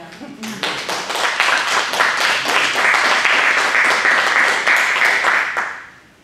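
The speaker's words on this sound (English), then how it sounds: "y'all should have been clapping on that" A church congregation claps in a steady, brisk rhythm that fills the room, while voices carry on over the clapping before it fades out.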